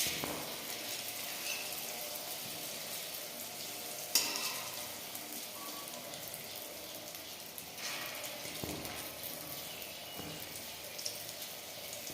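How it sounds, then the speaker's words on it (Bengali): Malpua batter frying in hot oil, a steady, soft crackling sizzle that continues throughout at moderate distance, with a few sharper pops and clinks along the way. "তেলটা গরম হয়ে গেছে, এবার আমি রেসিপিটা দিলাম।"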